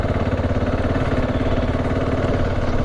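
A light motorcycle engine labours steadily up a steep, rough hill track, its mid-pitched drone loud, close and continuous with a rapid pulsing beat.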